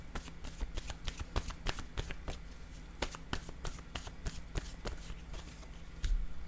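Tarot-style cards are shuffled by hand for a reading, giving a quiet, close series of crisp riffling flutters and light slaps in irregular bursts, with no talking.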